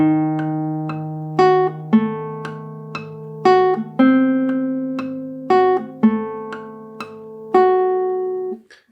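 Guitar tremolo exercise played from the string, with single plucked notes ringing clearly and close in an even, repeating pattern, new notes entering about every second, no voices.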